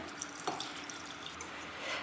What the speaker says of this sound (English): after transferring it in the mixer grinder, we will pour some water.